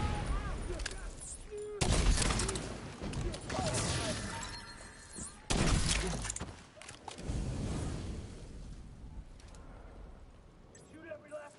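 Gunfire and explosions in the shooter game The Division 2 come in heavy bursts and sharp cracks, with loud volleys near 2 and 5.5 seconds and quieter stretches of scattered shots between.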